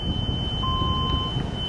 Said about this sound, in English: It's gonna beep at me because I've got my jacks deployed and I'm starting the engine.